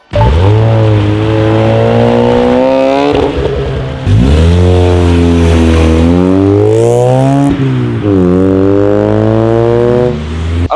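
A Mazda RX-8 rotary engine screams loudly at around 9,000–10,000 rpm, rising and falling in pitch through several sustained pulls, with brief dips between revs.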